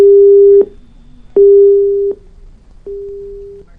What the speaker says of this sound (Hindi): परियोजना अधिकारी ने सवाल सुनकर ही फोन काट दिया है